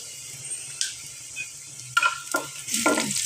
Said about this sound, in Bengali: এই যে কিছু জিরে দিয়ে দিলাম